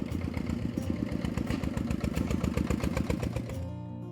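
A tractor loaded with sacks arrives with a rapid, chugging engine rhythm and some clatter, close and steady until the engine sound drops away near the end.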